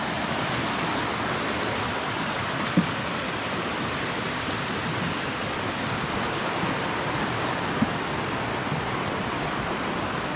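Steady broadband rush of a fairly big creek flowing beneath a bridge crossing on a snowy mountain trail, constant and close with no talk, a couple of faint clicks over the water.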